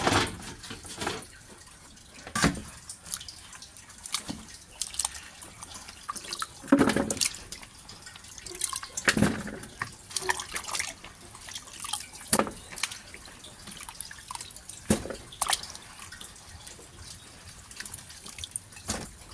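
Cassava root being rinsed in water by hand, with irregular drips and splashes at close range, scattered sloshing bursts over a low background, no talking.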